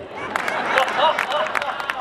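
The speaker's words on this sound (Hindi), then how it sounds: "मुमताज जी आप भी तालियां बजाओ।" A crowd claps at a Hindi poetry gathering (kavi sammelan), with a steady wash of applause and scattered sharper hand claps, mixed with chatter and voices throughout.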